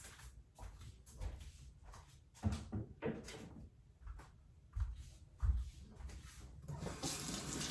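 Tap water runs into a kitchen sink for hand washing between baking steps, a faint uneven splashing stream with intermittent louder gushes and handling clatter over about eight seconds.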